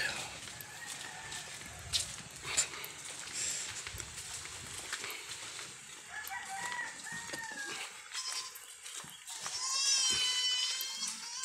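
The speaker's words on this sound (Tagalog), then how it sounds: "may kambing pa oh. May bisiro na" A goat bleats on a farm, mixed in with a crowing rooster and other fowl outdoors, with faint voices in the background.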